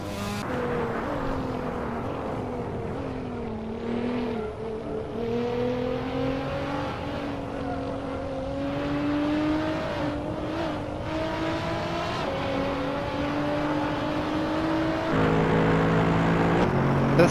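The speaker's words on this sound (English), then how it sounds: "This car is loud." A loud racing car engine revs hard and steadily, its droning tone gliding up and down through gear changes with a high whine over it, close and continuous with no speech.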